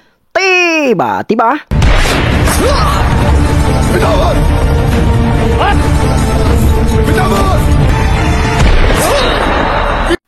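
A single gunshot in a film scene, Kang Kohar shooting Pitambar, bursts in loud and sudden after a short swooping tone. Dense, sustained sound and voices follow.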